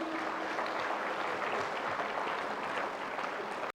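A convention audience at a Maruti company event breaks into loud, dense applause, steady many-handed clapping filling the room until it cuts off abruptly at the end.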